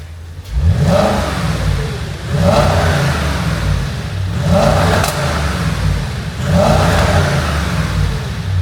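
A stock 2008 Audi S5 with a non-valved exhaust revs four times in a row, each rise swelling to a loud, throaty roar before falling back to a steady idle rumble.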